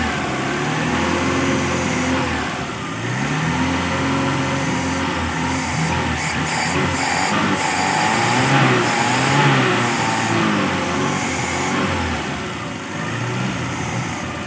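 A motorcycle engine fitted with a new carburetor revs steadily and loudly up close, its throttle rising and easing in a continuous drone with no talking.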